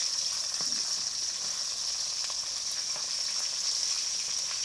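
Hashbrowns sizzle steadily in a hot pan, a continuous bright frying hiss with occasional faint crackles, close and even throughout with no talking.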